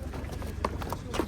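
Horse hooves clip-clop at a livestock market, a few quick, light hoofbeats in the near distance over steady low background noise.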